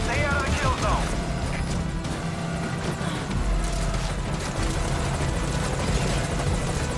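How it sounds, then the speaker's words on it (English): A helicopter landing in the video game Metal Gear Solid: Ground Zeroes, a loud, dense rotor roar with low rumble filling the whole stretch, with a voice speaking over it. "Alright, you better land, helicopter."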